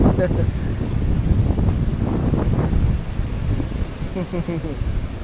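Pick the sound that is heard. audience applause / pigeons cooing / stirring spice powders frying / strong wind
strong wind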